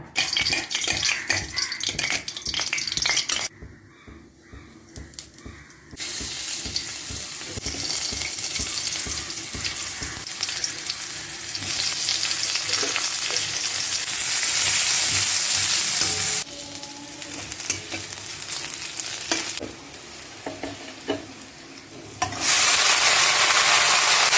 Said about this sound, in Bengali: এবারে একটু রসুন থেতো করে নিয়েছি, পেঁয়াজ কুচি, কাঁচা লঙ্কা, তেলে ফোড়ন দেব